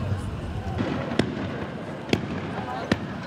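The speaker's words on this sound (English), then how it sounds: "who responded to the stones with stun grenades and tear gas" Stun grenades go off during clashes between stone-throwing mourners and Israeli security forces in the West Bank: three sharp, distant bangs at irregular intervals over a noisy crowd backdrop, with talk underneath.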